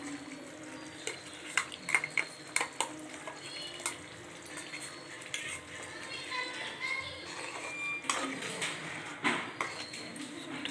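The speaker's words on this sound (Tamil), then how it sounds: "இது கூட நம்ம நைஸாக அரைச்சி வச்சுருந்த தேங்காய் பேஸ்ட்டை ஆட் பண்ணிக்கலாம்." Coconut paste goes into a simmering fish curry in a pot with a run of light clinks and scrapes of a spoon against the vessel, plus soft wet stirring, in a home kitchen.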